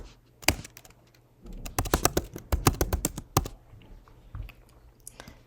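Typing on a computer keyboard while working in RStudio, with close, crisp key clicks arriving in quick irregular bursts separated by short pauses.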